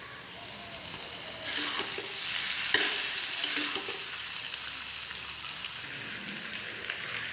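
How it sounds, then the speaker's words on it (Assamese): Chow mein noodles frying and being stirred with vegetables in refined oil in a wok, a steady close sizzle with scraping stir strokes and one sharp clank. "এতিয়া দি দিম মই চাওমিনখিনি।"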